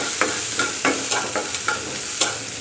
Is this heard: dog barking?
no